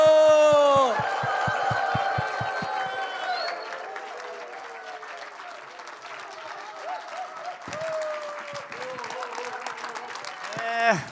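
A church audience gives loud applause welcoming a pastor onto the stage, sustained clapping under a voice, some chuckles and cheering, fading midway and swelling again near the end.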